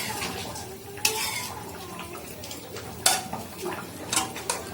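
A spoon stirs ghee into khichuri cooked as food for a nine-month-old baby in a pot. Soft scraping and stirring run under a low sizzle, broken by a few sharper clinks of the spoon against the metal.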